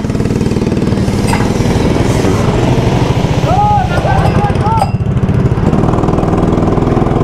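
Go-kart engines at a racing track in Dhaka run at a loud, steady idle with a buzzing, rapid mechanical putter close by, while a person speaks over the racket.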